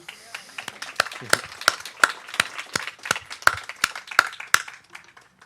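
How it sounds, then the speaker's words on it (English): Scattered hand claps from a small audience at a gun-violence survivors' advocacy tour event, sharp separate claps at an uneven rhythm rather than a full ovation, fairly close and moderate in volume. "That deserves a round of applause."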